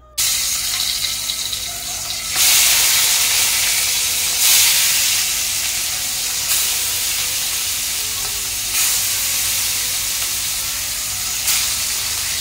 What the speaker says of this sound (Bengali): পেঁয়াজটা দিয়ে ভালো করে একটু ভাজা ভাজা করবো নুন হলুদ দিয়ে